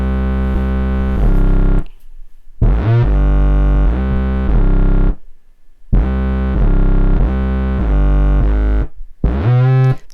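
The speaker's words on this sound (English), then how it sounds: "And then I have this bass, this sub bass. It has a lot of drive on it." A heavily driven sub bass line with reverb, made in GarageBand, plays loud and sustained notes in phrases of a few seconds, stopping in short gaps between them, with a gritty distorted edge and no talking.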